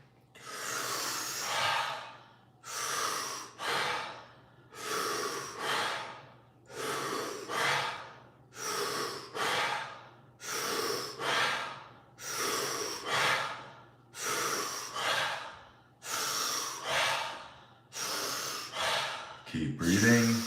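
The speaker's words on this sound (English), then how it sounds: "Breathing in." Deep, rapid breathing in a guided breathing exercise: about a dozen loud, rhythmic inhale-exhale cycles, close to the microphone, with no talking over them.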